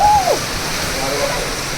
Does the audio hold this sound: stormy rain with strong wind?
yes